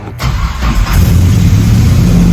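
A 1970 Chevelle prototype's engine cranks with the key and catches, settling into a loud, steady idle close by with no talking.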